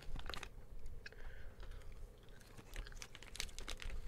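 Sour Skittles candy is chewed close to the microphone, with crunchy, irregular bites and soft mouth noises over a quiet background.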